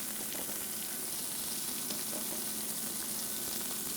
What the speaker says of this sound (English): the pan is so hot that you can just lift them